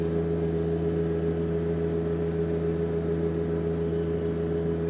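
A compact tractor fitted with a front snow blade runs steadily while pushing snow on a driveway. The engine drones continuously at a constant pitch and level, close and loud, with no talking.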